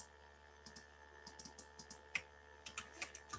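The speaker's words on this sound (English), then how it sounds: "You type that in," An IP address typed on a computer keyboard, a quick irregular run of light clicking keystrokes, close and fairly quiet, with no voices.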